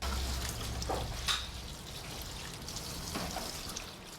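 Fresh water running steadily from a tap or hose while produce is washed before going to a processing unit on a farm, a quiet, constant trickle and pour with no talking.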